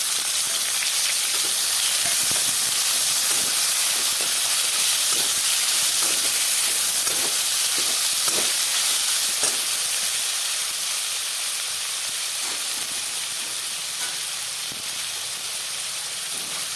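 Thin raw potato slices frying with chillies in a pan for sabudana khichdi, a steady hiss and sizzle with scattered light crackles and pops, close and even throughout.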